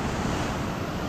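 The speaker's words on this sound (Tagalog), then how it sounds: "nandito tayo sa tabing dagat at napakalaki ng alon" Large ocean waves surging on the shore, a steady, loud wash of surf mixed with wind buffeting the microphone throughout the brief moment.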